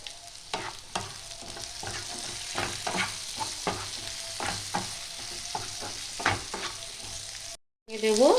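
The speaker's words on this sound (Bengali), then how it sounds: "ঠিক 1 থেকে 2 মিনিট লো ফ্লেমে এটা ভেজে নেব" Mushrooms frying in a pan on low flame, a soft steady sizzle broken by repeated spatula scrapes and taps, followed by a brief drop to silence and a clatter at the end.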